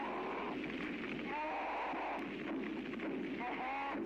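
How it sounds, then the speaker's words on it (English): A fire burns in an animated scene, giving a steady, dense crackling roar that fills the whole stretch with faint tonal sounds mixed in. "Because it sounded like a fire."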